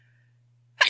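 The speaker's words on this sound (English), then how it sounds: "I'm going to sneeze." A single short, sharp human sneeze at the very end, loud and close after near silence with only a faint steady hum.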